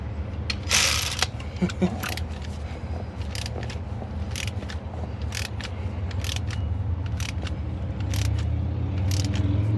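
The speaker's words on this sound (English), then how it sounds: "This is my old 1/4" ratchet too." An old 1/4-inch ratchet turns bolts on a 4.3 Vortec engine during intake manifold gasket work, giving repeated sharp clicking bursts over a steady low engine-bay rumble, close and fairly loud.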